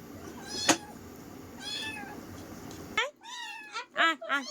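Cats meow while being called to a meal of rice mashed with fish in a village home, with several clear, close, rising meows near the end, and a woman calls to them over faint background noise.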